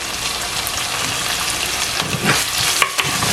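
Onion, green chillies and curry leaves are sautéed in a pan for a dry fish coconut milk curry, producing a loud, steady, close sizzle with occasional stirring scrapes.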